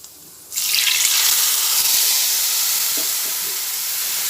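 A cumin, coriander and turmeric spice mix poured into hot oil with fried ginger bursts into a loud, steady hissing sizzle that continues strongly, with a few faint pan knocks.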